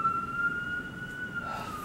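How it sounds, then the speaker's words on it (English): Police car sirens wail in a video game, a sustained steady tone at moderate volume holding through the whole stretch with slight shifts and no talking. "Fuck these police cars,"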